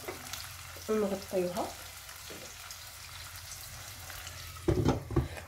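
Onion frying in a pan on a home stove, a steady low sizzle running throughout beneath short bursts of a voice speaking nearby.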